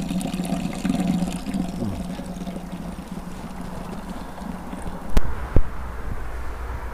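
Water spills from an overflow pipe into the snow with a steady splashing rush, joined near the end by a couple of sharp knocks.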